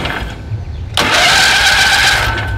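A 20hp Kohler Magnum engine on a Simplicity Sunstar garden tractor catches abruptly after a quiet moment and settles into a loud, steady running roar close by.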